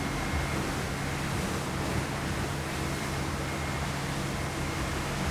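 A FIM 470 Regina motor boat running through waves at sea: a continuous, loud roar of engine, rushing water and wind buffeting the microphone, steady throughout with no speech.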